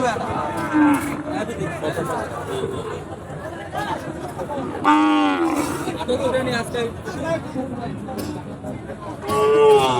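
Cattle at a livestock market, including Sahiwal bulls, moo loudly and nearby several times, long drawn-out calls rising over steady talking and crowd chatter in a busy outdoor setting.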